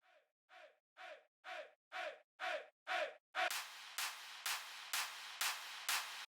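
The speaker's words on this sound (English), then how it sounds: "I added some vox shouts and drop claps with a volume automation to help transition to the build-up." Short processed vocal shout samples in a progressive house track, about seven clipped calls in a steady rhythm, then louder, brighter shouts that land with punchy drop claps at a regular beat.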